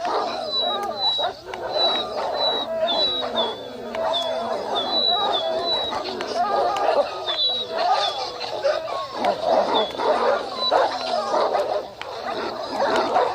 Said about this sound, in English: Those dogs scared me, bro.